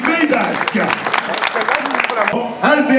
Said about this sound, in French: Merci d'applaudir l'équipe venue du Pays Basque.